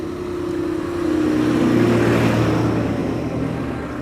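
An airport tractor at Schiphol rolls past outdoors, its engine drone swelling as it approaches, peaking midway, then fading away, with a steady low hum over wind and background noise.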